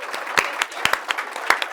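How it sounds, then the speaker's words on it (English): A small audience at a real estate investing event gives scattered applause for Sarah, with individual claps standing out sharply over a thinner patter, moderately close and tapering quickly. "how about a massive round of applause for Sarah"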